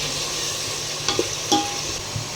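Bay leaf, black pepper and cloves fry in hot oil for chicken biryani, giving a steady loud sizzle throughout with a few faint stirring knocks and no voices.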